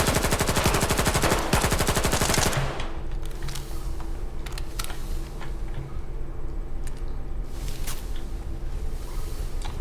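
Rapid automatic gunfire from the shooter game Stalker 2 rattles loud and dense for about two seconds, then scattered lighter shots and clicks follow over a steady, rumbling game soundscape.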